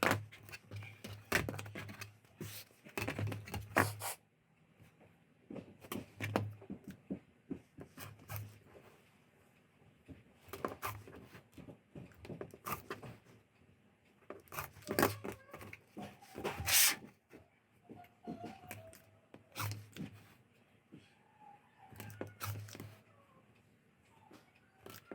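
Quilt fabric for a sampler block is cut on a mat, giving irregular sharp crisp cuts and rustles in short bursts with quiet gaps, close and fairly soft, with no talking.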